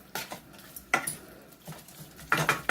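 Seasoned taco meat being stirred in a pan for spaghetti tacos, a few sharp utensil scrapes and clinks against the pan separated by quieter shuffling, close by.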